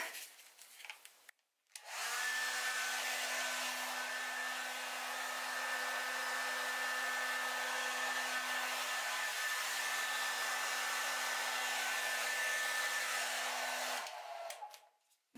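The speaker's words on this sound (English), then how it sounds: "I tape down my cool button on my blow dryer" A blow dryer on its cool setting switches on and roars steadily for about twelve seconds at close range, blowing out acrylic pour paint, then cuts off, with handling noises before and after.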